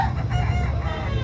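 Rooster crowing at a chicken market in Carbon Public Market, Cebu City, a short, fairly faint crow amid busy market background noise.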